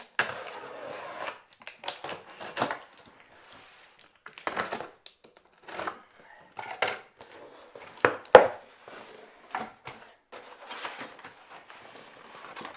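A postal package is cut open carefully, with scattered scrapes, crinkles of packing material and taps of cardboard coming in irregular bursts separated by short pauses, all quiet and close by.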